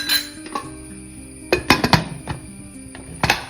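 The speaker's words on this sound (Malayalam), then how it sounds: "കുക്കർ അടക്കാം." A pressure cooker lid is fitted and closed over beef, giving several sharp metallic clanks and clinks in small clusters with quiet gaps between.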